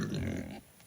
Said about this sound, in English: Pigs, pigs, pigs.